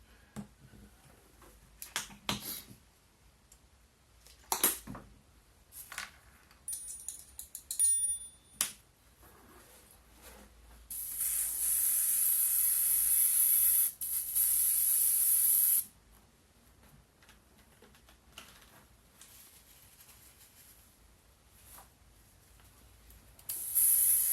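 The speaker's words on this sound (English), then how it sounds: "It's just a lot quicker with the airbrush." An airbrush spraying black model paint onto a miniature figure: a steady close hiss of air and paint that holds for several seconds, set among sharp clicks and handling taps, with no voices.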